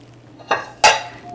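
Utensil scraping around the inside of a dish to loosen the edges of a Cuban lemon flan, two distinct close metallic scrapes in quick succession.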